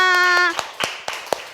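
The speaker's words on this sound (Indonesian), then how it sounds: "Tepuk tangan untuk Mas Ovan dan kelompoknya." A few sparse handclaps from a small audience after a group presentation, spaced and distinct, following a short voiced tone at the start.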